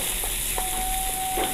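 Finely chopped onions fry in a hot pan with a steady, close sizzle and a few soft stirring scrapes, with no voices.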